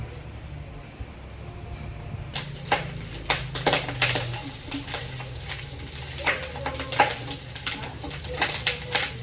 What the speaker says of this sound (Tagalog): Igisa na natin yung karne. Ibutuin natin sa sarili niyang mantika.